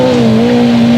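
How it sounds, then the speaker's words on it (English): A rally car on a loose rally stage powers round a corner with its back end held out on the throttle, engine droning loud and close at a steady high pitch. "accelerating round, keeping the back end out to the throttle"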